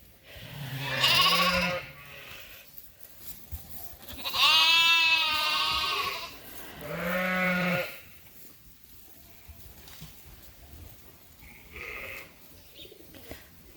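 Sheep and lambs bleating in a pen, three loud nearby bleats in the first eight seconds, then a fainter call later amid quiet farm background.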